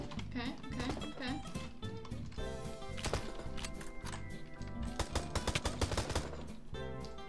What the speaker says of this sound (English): You have a machine gun as well.